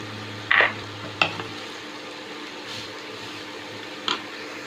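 Grated fresh papaya stirred in a frying pan, a few short scraping stirs standing out over a low steady sizzle, the spoon strokes spaced apart and fairly close.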